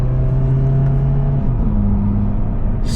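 A car fitted with a Trackslag MK8 downpipe exhaust downshifts, its low engine drone dropping and then settling at a new pitch, a close, steady rumble with a quiet exhaust note.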